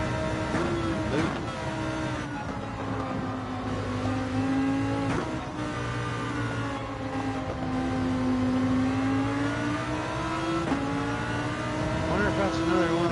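Race car engines in a racing video game, a BMW among them, whining past with rising and falling pitch and revs, under steady background talk from players.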